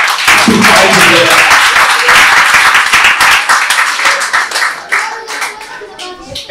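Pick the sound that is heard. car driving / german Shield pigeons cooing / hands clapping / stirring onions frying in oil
hands clapping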